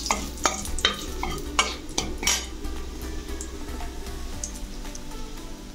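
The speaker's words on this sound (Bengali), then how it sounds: "এবার তেজপাতা দিলাম 3টে ছোটো সাইজের।" Three small bay leaves drop into a hot pan for moong dal, with sharp metallic clinks and stirring scrapes at the start, then a soft steady sizzle of oil carrying on alone.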